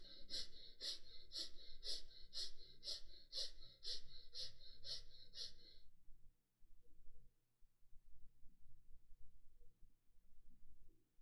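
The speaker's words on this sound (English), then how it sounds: "start breathing from the chest. Short and quick, gentle breath from the rib cage." Short, quick chest breathing in a guided meditation practice, about a dozen rapid evenly spaced breaths, close and distinct, which stop midway before fainter, quieter breathing carries on.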